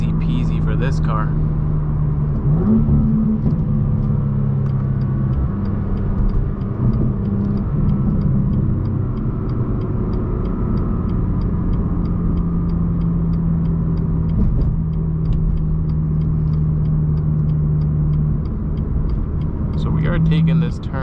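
A 2017 BMW M2 with a manual gearbox drones steadily from inside the cabin while driving, a continuous loud engine rumble with subtle shifts in pitch as the car accelerates.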